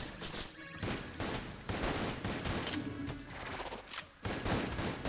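Dense, continuous volleys of video game gunfire ring out in the bullet-hell shooter Enter the Gungeon, loud, rapid shots with brief gaps.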